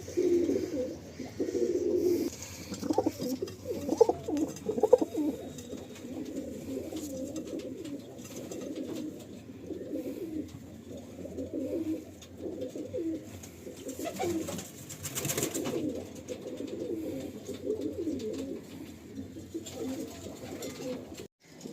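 Kalanka breed pigeons coo in a loft in Kolkata, low, throaty coos repeating close by in overlapping rounds, louder early on and then settling into a softer, continuous murmur.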